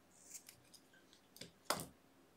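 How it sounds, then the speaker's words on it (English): Scissors snip through crochet yarn, a soft faint rustle of handling followed by one crisp, close cut near the end. "Then I'm gonna cut this yarn,"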